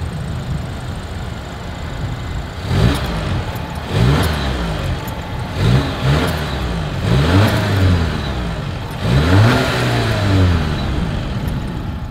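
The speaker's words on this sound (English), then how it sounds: "As always, here is that exhaust clip." Exhaust note of a 2023 Volvo V60 Cross Country wagon, a steady idle broken by about five short throttle blips that rise and fall in pitch, fairly close and loud, with no talking.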